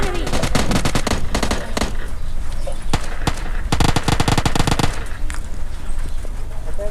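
Gunfire in PUBG Mobile Lite rattles in loud rapid bursts of sharp shots, dense clusters separated by short gaps, with game ambience underneath.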